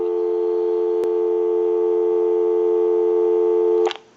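A steady electronic busy signal from a Western Electric Trimline telephone hums continuously for about four seconds, with a click partway through, then cuts off abruptly.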